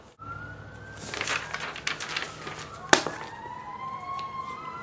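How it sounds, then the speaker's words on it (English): Several police sirens wail together, their overlapping rising and falling sweeps steady at mid distance for the whole stretch, with one sharp bang partway through. "We interrupt this regularly scheduled video for sirens, many of them."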